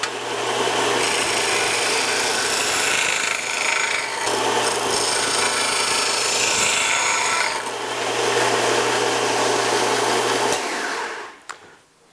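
A disc sander grinds steadily against wood over a constant motor hum, the abrasive rasp running unbroken before the machine cuts off near the end.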